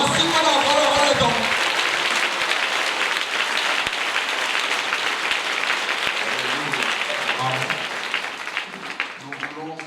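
Sustained applause from a congregation acclaiming during a prayer service, loud and enveloping at first, then slowly thinning as voices begin to come through near the end.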